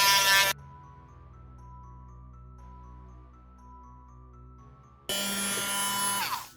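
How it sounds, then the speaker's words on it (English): Small power sander working on a doll's neck peg, heard in two short, loud bursts of gritty whirring at the start and end, with a quiet steady hum between them. "Gotta sand this down."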